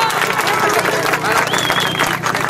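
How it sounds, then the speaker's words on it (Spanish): An audience at a public award ceremony clapping for a recipient, busy applause mixed with crowd murmur and voices, loud and close. "Un aplauso, por favor, América."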